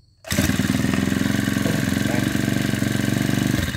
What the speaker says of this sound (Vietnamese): Để mình giật nổ cho các bạn xem.